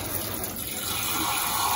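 Water runs steadily from a kitchen tap into a cup, a constant close rushing hiss without pauses while cooking couscous with ground beef.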